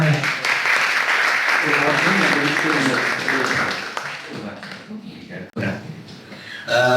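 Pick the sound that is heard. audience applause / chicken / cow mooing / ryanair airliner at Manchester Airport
audience applause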